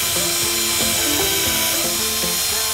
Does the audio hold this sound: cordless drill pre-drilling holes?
yes